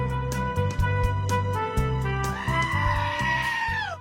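A goat bleats in quavering calls over a busy, loud backdrop with a steady low hum; the clearest, long wavering cry comes near the end.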